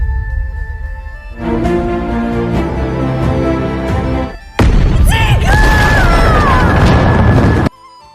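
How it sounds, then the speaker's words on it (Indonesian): An exploding talisman detonates in an animated Chinese fantasy battle. After a musical build-up, a loud, sudden blast erupts with swooping, ringing tones inside it, then cuts off abruptly after about three seconds. "Liu Jing mengaktifkan jimat peledak yang berada di dalam tubuhnya dan membawa ketua sekte aliran jahat bersama mereka, berharap meledakkan diri"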